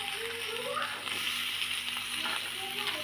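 Green beans stirred and fried in a pan with carrots for a mixed vegetable dish, a steady close sizzle with soft scraping stirs running throughout.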